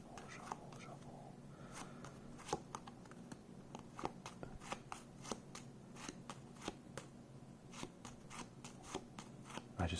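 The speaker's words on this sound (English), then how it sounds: "I just really like the sound of shuffling cards" Quiet, close crisp riffles and flicks of cards being shuffled repeatedly, with soft whispering underneath.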